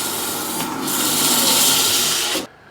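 Sandpaper of 180 grit rubs briskly over a wooden workpiece in a loud, continuous abrasive scrape that surges slightly midway, then stops abruptly near the end, leaving quiet.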